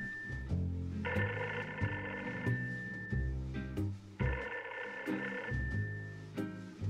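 A telephone in the Post Mortem video game rings in repeated bursts, a bright electronic trill alternating with pauses over low background music, fairly quiet and without talk.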